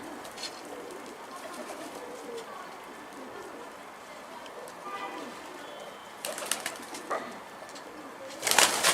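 Pigeons in a loft setting cooing softly and intermittently, fairly faint, with a few sharper bursts of fluttering or rustling near the end.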